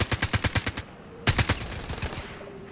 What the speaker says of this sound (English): Why did you even start to open fire with an unsuppressed weapon?